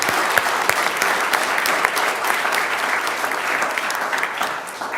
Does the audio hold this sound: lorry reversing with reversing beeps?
no